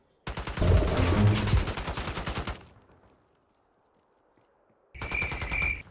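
Gunfire in a prop hunt video game: a loud, dense burst of rapid shots lasts about two seconds, then fades into quiet, and a second close burst follows near the end.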